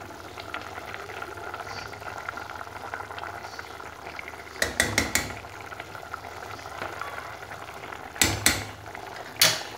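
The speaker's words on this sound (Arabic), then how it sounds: "غادي نخلي هاد لاصوص هادي تعقد ليا، وغادي نحاول مره نحركها" Sauce with oil and butter bubbles and simmers steadily in a pan while it thickens, a soft continuous frying hiss broken by a few short clattering bursts from stirring.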